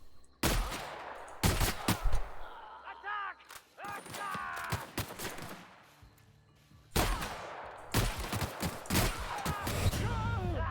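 Shotgun blasts in The Outer Worlds fired at low-tier marauders, loud broadband bangs in two clusters with gaps between, mixed with game effects and a voice talking over the action.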